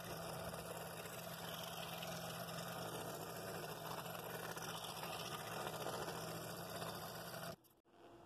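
A scroll saw cutting the inner section of a wooden music box, a steady motor hum with a fast buzzing reciprocating blade that continues evenly, then stops abruptly near the end.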